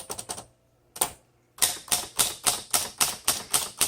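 A 1954 Smith Corona Skyriter travel typewriter is typed on, its sharp key strikes coming in a quick cluster, then a pause and a single strike, then a steady even run of loud, close clacks.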